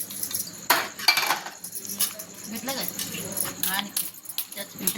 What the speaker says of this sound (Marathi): इकडे मम्मी भांडी घासते